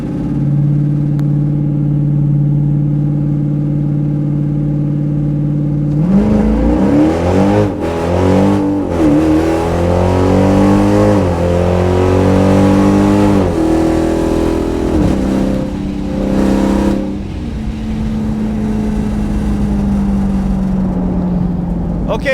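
A drag race car in 11.50 index class qualifying idles, then launches and accelerates hard with rising gear-shift sweeps, engine roaring loud and close before easing off near the end.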